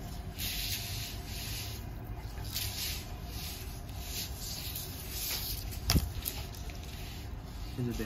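An Indian georgette party saree with ruffled, fully worked design is unfolded and handled up close, giving a continuous soft rustling and rubbing of fabric, with a sharper crinkle near the end.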